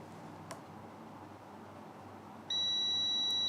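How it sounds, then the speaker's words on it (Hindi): A multimeter in continuity mode, testing a coupler in a mobile phone, gives a sharp, steady electronic beep that starts abruptly near the end and holds loud over a faint background hiss. "इसने बीप दिया"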